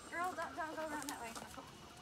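Backyard chickens cluck in a short run of throaty calls close by, with a person speaking briefly over them.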